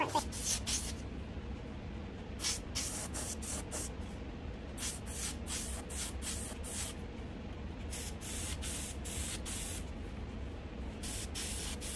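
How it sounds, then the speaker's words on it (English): An airbrush spraying paint, a series of sharp, close hissing bursts in an irregular on-off pattern, with talking underneath throughout. "spray off the paint that had gathered on the tip of my airbrush"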